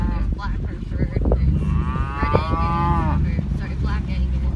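Black Angus cattle on a northern Alberta farm give a long, rising moo that stands out clearly above steady background noise and low rumble, with faint talk mixed in.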